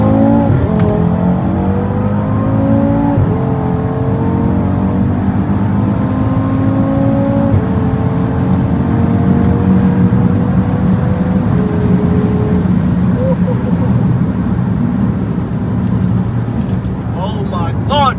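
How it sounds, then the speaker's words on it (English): Audi RS3 Stage 2 five-cylinder engine revving hard and pulling through the gears, with rising harmonic sweeps that dip at each shift, loud and close inside the car over a steady drone. "Watch the car, listen to the car come alive if you can hear it."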